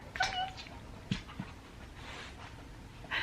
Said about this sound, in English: I hear my dog coming up the stairs.